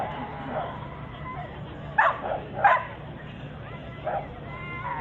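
A little Jack Russell terrier at an agility event gives a few short, sharp barks and yips spread over several seconds, close by, with a voice talking in the background.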